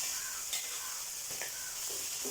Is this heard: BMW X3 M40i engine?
no